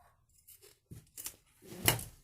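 Scissors snip through fabric while a small 3-in-1 cloth pouch is being cut, a few short separate cuts growing louder, the last one the strongest, with no talking over them.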